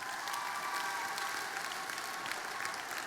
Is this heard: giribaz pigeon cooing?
no